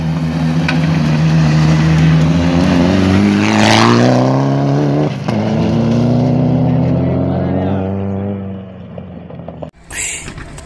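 A rally car with engine trouble on the Arequipa–Cusco stage drives past close by, its loud droning engine sweeping up and down in pitch before fading away, with spectators' voices underneath.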